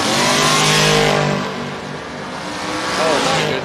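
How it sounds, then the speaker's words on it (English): A Chevrolet Nova drag race car launches at a drag strip with a loud, rising engine roar that dips briefly and then revs up again. An announcer talks over it. "That's the Chevrolet Nova out 633"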